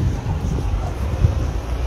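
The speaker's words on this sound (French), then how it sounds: "Heureusement qu'il y a un peu de vent." Outdoor wind buffets the microphone on a hot day in Lyon, a constant low rumbling roar with small gusts and no clear voices.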